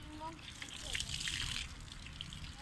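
Water splashes and trickles steadily while a goat is being washed, close and continuous, with voices talking over it.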